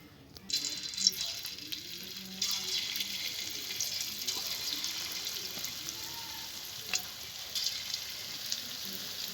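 Soybean pakoras deep-fry in hot white oil in a kadai, a bright continuous sizzle that starts abruptly and carries on with scattered crackles and small pops.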